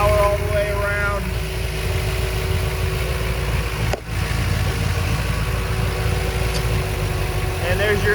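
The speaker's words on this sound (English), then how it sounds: "There's your Cobra, AC Cobra 427 side oiler engine. Runs really nice and smooth." A 427 side-oiler V8 from an AC Cobra, fitted in a 1948 Ford woody wagon, idles smoothly and steadily close by, with a constant low rumble and a brief dip partway through.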